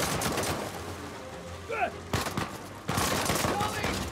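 Gunfire in an Uncharted 4 firefight: bursts of shots under a steady din of battle. Two sharp loud volleys break in near the end, and a voice speaks over the shooting.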